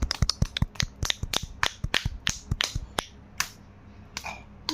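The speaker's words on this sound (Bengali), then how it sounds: "এটা হাততালি।" Someone claps hands for a small child, a quick run of sharp, close claps in an uneven rhythm that slows and thins out toward the end.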